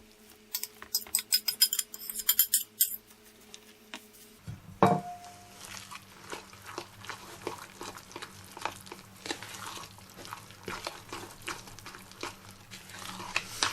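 Apple and banana pieces tipped into thick pancake batter and folded through in a bowl, a soft clatter and clink of the drop followed by steady wet stirring scrapes, fairly close and quiet with no talk.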